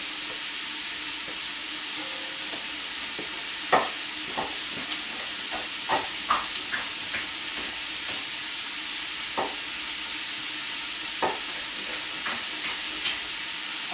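Mirepoix vegetables and sliced meat frying in a pan for red beans and rice, a steady close hiss with scattered sharp clicks and scrapes of a utensil stirring, no voices.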